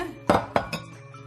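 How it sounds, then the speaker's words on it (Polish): Ovenproof glass baking dishes clink together in a kitchen, three sharp knocks in quick succession, fairly close and clear, followed by a quiet ringing tail. "Teraz my bierzemy żaroodporne naczynia"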